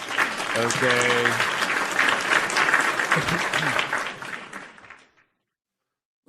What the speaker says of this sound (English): Ladies and gentlemen, round of applause for the world debut.